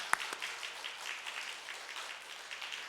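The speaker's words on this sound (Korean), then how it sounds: "우리 환영 박수 하도록 하겠습니다" Applause in a church service welcoming a newly registered member, a soft, steady patter of clapping from the congregation heard at a distance, fairly faint.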